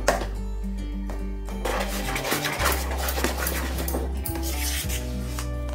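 Akkaravadisal, a sweet temple prasadam mixture, gets stirred in a cooking pot with rhythmic scraping and rubbing of a spoon against the metal, over a low steady hum from the stove.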